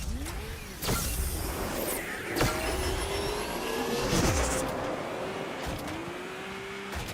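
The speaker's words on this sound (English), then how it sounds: "We have to listen to the beautiful engine sounds that Gameloft provided." Car engines in the racing video game Asphalt Legends: steady revving engine tones rise and fall in pitch, with sharp gear-shift clicks and whooshes of passing cars, no talking over them.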